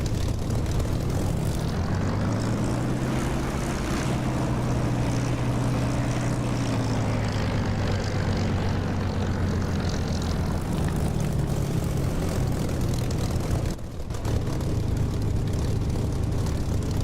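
Propeller aircraft engine in the DCS flight simulator game, a steady loud drone with a low humming tone that dips slightly and then holds constant, with a brief dropout near the end.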